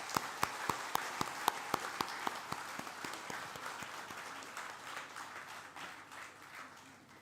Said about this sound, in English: can we give both of them a big round of applause?